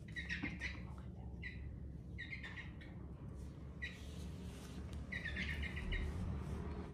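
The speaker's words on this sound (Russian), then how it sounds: "Меня птица звала, орала." A pet bird in a home calls in repeated bright, sharp chirps, several short bursts separated by brief pauses, fairly close but not loud, over a faint low room hum.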